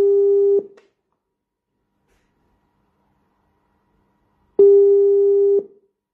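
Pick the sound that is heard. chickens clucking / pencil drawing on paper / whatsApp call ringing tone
whatsApp call ringing tone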